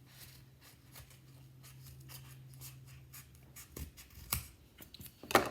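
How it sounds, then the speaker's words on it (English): Scissors snip through cardboard bulb shapes in short, quiet, irregular cuts, close up, with light rustling and handling of the card between snips. "I'm going to cut them out singularly"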